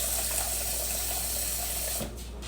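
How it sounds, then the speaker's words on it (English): Water pours steadily from a tap into a container to thin out dog food during keto meal prep in a kitchen, a constant broadband rush that cuts off near the end. "I take this and I add some water to it and dilute it a little bit"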